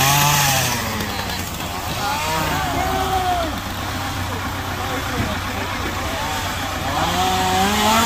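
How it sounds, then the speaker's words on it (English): A running chainsaw drones steadily throughout on a haunted hayride, with voices and other noise layered over it. "Chainsaw."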